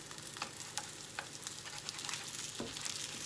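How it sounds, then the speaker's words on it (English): Sweetcorn fritters frying in hot oil in a pan: a soft, steady sizzle with occasional light pops and crackles, close but fairly quiet, with no talking. "make sure they sit in the oil, because the oil will help them cook through."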